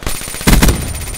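A short burst of rapid gunfire in Black Ops 3 during a Hardpoint match, with loud close shots clustered in a quick rattling volley.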